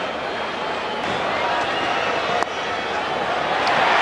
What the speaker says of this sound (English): Loud cheer again from the capacity crowd of the Wanderers